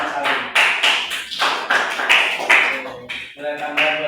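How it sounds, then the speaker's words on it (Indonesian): A classroom applauds a student named Mas Ali, a dense burst of many hands clapping together, close and steady for several seconds with brief dips in intensity. "Tepuk tangan buat Mas Ali."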